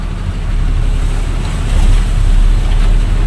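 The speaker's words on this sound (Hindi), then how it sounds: "आधे टायर गाड़ी के पानी में है।" A car pushes through deep floodwater in Jaynagar, Bhuj, with tyres half submerged. Water surges and washes loudly and continuously under rumbling wind noise, and there is no talk.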